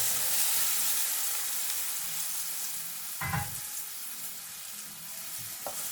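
Very hot oil, half a cup, poured over chopped scallions and plain flour for a paratha filling, giving a loud continuous sizzle and hiss that gradually eases, with a brief stir or clatter midway.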